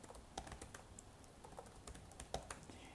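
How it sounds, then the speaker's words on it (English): Name being typed on a computer keyboard during an administrator setup, a quiet, close series of irregular key clicks with short pauses between strokes. "So we're just going to go ahead and type in my name,"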